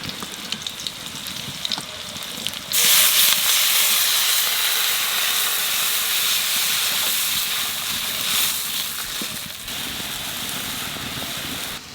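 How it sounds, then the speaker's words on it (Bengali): Water splashed into hot oil seasoned with cumin seeds and green chillies erupts at once into a loud, steady hiss and sizzle that holds for about nine seconds before easing slightly, after a quieter stretch of background kitchen noise. "তেলের মধ্যে দিয়ে দেবো জিরে আর কাঁচা লঙ্কা, এইবার জল দিয়ে দেবো।"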